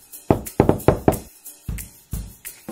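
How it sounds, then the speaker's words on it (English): Knocks on a wooden door at Grandma's house in a children's fairy tale, two quick bursts of three raps followed by slower single knocks, close and loud with nobody speaking. "Little Red Riding Hood reached Grandma's house and knocked on the door"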